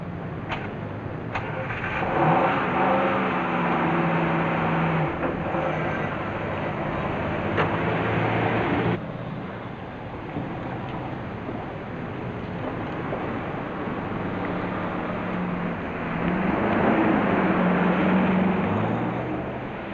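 A car engine from a 1950 crime film revs and pulls away, a steady broadband motor roar that swells and fades over about twenty seconds with no talk over it.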